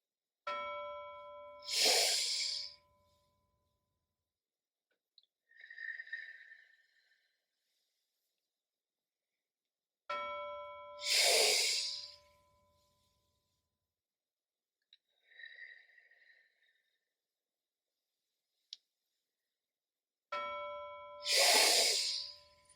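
A soft bell rings three times at slow, even intervals, each followed by a long, slow exhale, with silence between.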